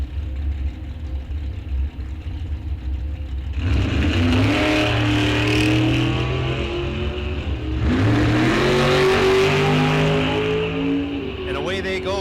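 Drag racing cars, including a shorty dragster, launch at Rock Falls Raceway in two loud surges of roaring, rising engine revs, the second starting midway, while an announcer talks throughout.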